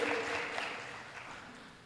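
An audience at a university public lecture seminar claps for speakers on stage, a soft, steady wash of distant applause that fades slightly over a short span.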